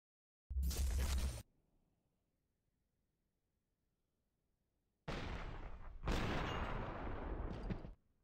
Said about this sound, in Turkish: Tek mermi attım beyler.